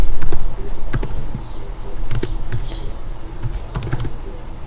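Someone types on a computer keyboard close up with quick, uneven clicks in short bursts, a clack now and then standing out over a low background rumble.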